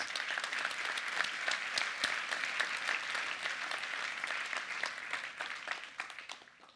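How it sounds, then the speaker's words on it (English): Keynote audience at Atlas Camp 2018 applauding steadily, a dense wash of hand claps from a large crowd in a hall, tapering off toward the end. "Let's give yourself a big round of applause."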